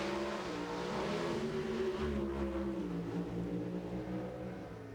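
NHRA drag racing cars roar down the strip at the 1996 Pennzoil Nationals in Memphis, a loud sustained engine howl that rises in pitch and then fades slightly, with no talking.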